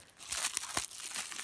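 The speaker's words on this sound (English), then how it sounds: "Let me just use the scissors here." Scissors snip and crinkle through the plastic packaging of a mochi cream donut squishy toy, giving a few soft, close crunching cuts with no voices.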